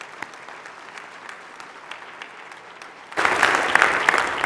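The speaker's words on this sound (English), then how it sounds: "let's give him a round of applause" A church synod assembly audience breaks into applause for its senior accountant: faint scattered claps for about three seconds, then a sudden full round of loud, dense clapping from the gathered crowd.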